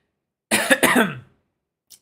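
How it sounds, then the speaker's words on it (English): A single harsh cough in two quick bursts, close and loud, followed by silence and a faint tiny noise. "Keep coughing."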